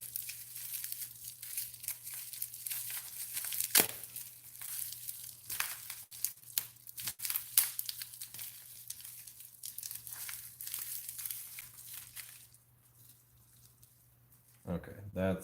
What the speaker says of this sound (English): I'm gonna have to get through bubble wrap with just my fingers